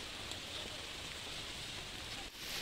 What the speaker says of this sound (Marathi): पाऊस खूप मोठा चालू झाला भयानक पाऊस आहे